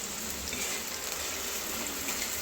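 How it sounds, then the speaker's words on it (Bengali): Onions frying in the oil left over from frying potatoes, giving a steady, close, even sizzling hiss with no one speaking. "ওই তেলেতেই পেঁয়াজগুলো ভেজে নেব"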